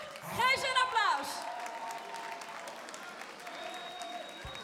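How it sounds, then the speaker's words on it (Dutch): Audience applause at a talent show, a burst of loud clapping that peaks early, then settles into steady, fainter clapping that continues to the end, with a voice briefly heard at the start. "Geef ze een applaus."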